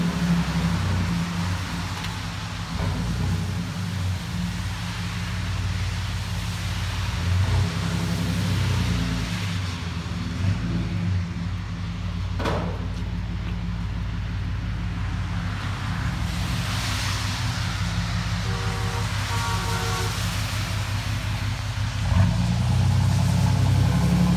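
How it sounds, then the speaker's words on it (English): 2006 Chevy Silverado V6 fitted with a Flowmaster Super 10 exhaust, rumbling loud and deep at close range with a steady idle and occasional revs, no voices over it. "Got the Flomaster Super 10. Sounds really good on it."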